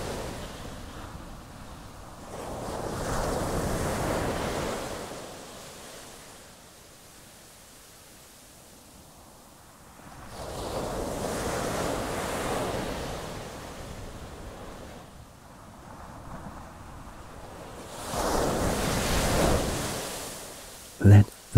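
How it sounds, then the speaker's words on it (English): Ocean waves wash onto the shore in slow, broad surges, swelling and fading about every eight seconds with soft hissing wash between them, gentle and unbroken, with no talking. "The gentle sounds of the ocean lull you into that sleepy, restful place where you long to be."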